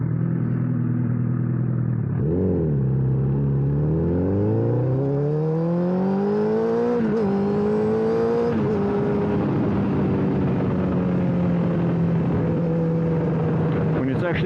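A 2009 Honda CBR1000RR Fireblade is ridden, its engine note climbing and falling through the gears with steady rushing wind, loud and close throughout.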